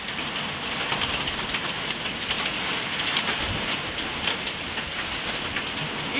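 Steady dense pattering of hail and heavy precipitation pounding surfaces during a storm, constant and fairly loud with no voices.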